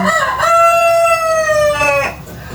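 A rooster crows loudly and close, one long drawn-out cock-a-doodle-doo with a rising start and a clipped ending.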